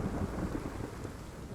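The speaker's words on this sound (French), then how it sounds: "la tempête arrive sans prévenir" A mountain thunderstorm arriving suddenly in summer, a steady dense rumble of thunder mixed with rain, loud and continuous without pauses, no voices.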